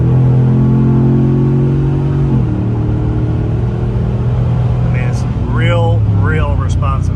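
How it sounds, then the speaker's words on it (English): A vehicle fitted with a Rough Country exhaust kicks down a gear and accelerates on the road, its loud, droning exhaust note shifting pitch before rising in a rolling surge of engine power. "I'm going to push it down real quick just to show you how quickly it will step down and change gear and accelerate"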